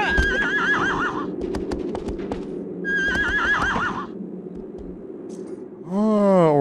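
Two bursts of horse whinnying with clopping hooves in the video game Shadow of the Colossus, then a rising, wavering neigh at the end; loud and close, no talk.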